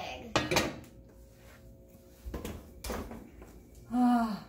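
Metal loaf pans of homemade sandwich bread are handled out of the oven, giving a few sharp clanks and rattles spaced apart, with a louder knock near the end.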